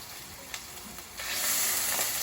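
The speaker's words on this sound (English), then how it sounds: "What you want to do is you want to saute all of your innards." Turkey liver and heart sauteing in a hot pan give off a steady frying sizzle, with a couple of brief clinks early on before the hiss swells louder and continues unbroken.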